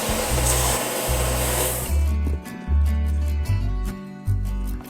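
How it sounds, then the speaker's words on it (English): A belt sander runs on wood with a loud rushing whir, then drops to a lower hum as it's pressed and lifted in uneven bursts. "Here I just cleaned it up with a light sand on the belt sander."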